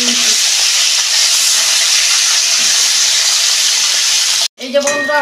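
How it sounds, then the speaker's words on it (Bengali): Fish frying in hot oil in a home kitchen gives off a loud, steady, close sizzle that runs unbroken, then cuts off abruptly near the end, followed by a few brief clatters. "আমার মাছটা ভাজা হয়ে গেছে"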